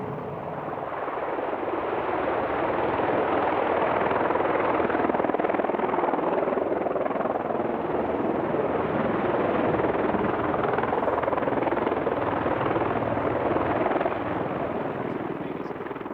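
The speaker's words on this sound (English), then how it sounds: "it's this precision of flying that has won for the Czech helicopter display team the Sir Douglas Bader Trophy" Czech display team helicopters' rotors thunder steadily and loudly throughout at the 1995 RAF Fairford air show, a continuous close, heavy chopping roar with no pauses.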